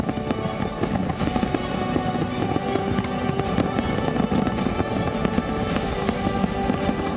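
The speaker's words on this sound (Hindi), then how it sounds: "कहीं ऐसी आतिशबाजी हुई जिससे नजरें नहीं हटी" Dense, continuous crackling and popping of New Year fireworks, loud and sustained throughout, with bursts overlapping one another.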